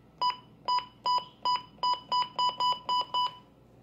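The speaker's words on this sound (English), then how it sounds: "the button beeps have like those clicky sounds on the beginning of the end of the beeps" A series of ten short, evenly spaced electronic button beeps from a Midland WR100 radio, each with a slight click at its start and end, close and clear.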